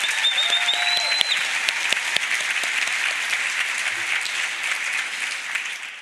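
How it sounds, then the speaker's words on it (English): Audience applause at a literary festival headlining event in Spokane, a steady wash of clapping from a large crowd, moderately loud and sustained, with a few sharper individual claps. "So can we give them a round of applause?"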